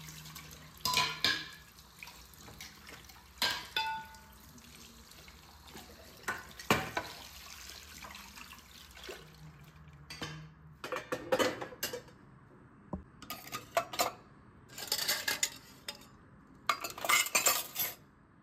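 Dishes and cutlery clatter at a kitchen sink with running water from the tap, in intermittent bursts of clinks and splashes, moderately close, with no talking.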